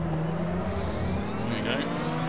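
A car in a driving video game runs over gravel with a steady, loud engine drone and continuous road noise throughout, with no distinct crunching standing out.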